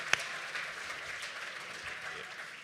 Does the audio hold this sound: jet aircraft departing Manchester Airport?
no